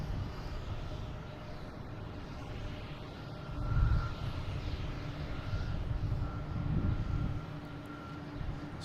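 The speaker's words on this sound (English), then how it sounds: "It's flight 346, an A321 Neo." A JetBlue Airbus A321neo on flight 346 at Boston Logan International Airport, bound for Barcelona, makes a faint, distant low jet rumble that swells gently twice, with no voices.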